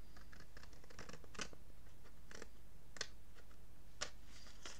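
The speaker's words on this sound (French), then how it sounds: "Donc là, je vais m'appliquer pour couper." Scissors cutting paper while crafting a small notebook mini album: a few crisp, quiet snips spaced a second or so apart over a soft background, with no talking.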